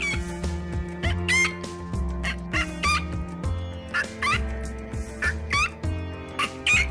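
Near, loud gobbling fowl calls ring out in repeated bursts at Thol Lake near Ahmedabad, Gujarat, at sunrise, with sharp high squeaky cries laid over a continuous layered chorus of lower calls.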